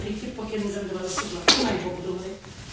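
A single sharp sneeze from an adult woman bursts out mid-conversation, cutting across ongoing talk in a room where a newborn baby is being tended, with voices continuing before and after.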